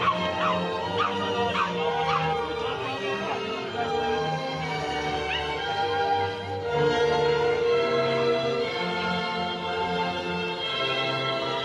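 Dogs at an outdoor dog show judged across eight rings bark, yip and whimper in scattered bursts over a continuous crowded background hum.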